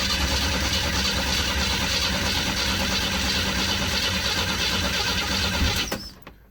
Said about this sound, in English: So as we crank the engine